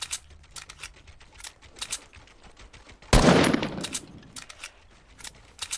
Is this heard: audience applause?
no